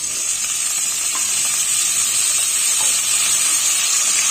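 Vegetables for avial, including drumstick and raw plantain pieces, frying in a pan: a loud, steady hiss and sizzle close by, with faint stirring clicks now and then and no talking.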